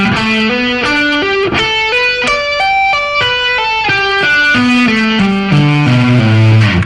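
A distorted electric guitar plays a slow major 9 arpeggio lick, with single notes climbing and falling one at a time across the strings, loud and close with no voices.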